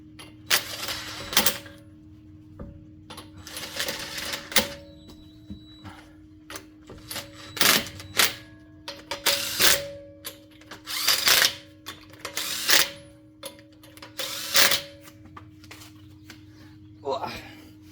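A power tool runs lug nuts down on the front wheel of a 2016 Chevy Traverse during a brake job, firing in repeated short, loud, close bursts separated by quiet gaps, with a faint steady hum behind.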